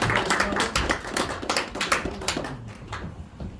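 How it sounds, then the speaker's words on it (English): Scattered clapping from a church congregation, distinct individual claps close by at an uneven rhythm, tapering off and growing sparser toward the end. "So I want to have a round of applause to appreciate Mikuni's side."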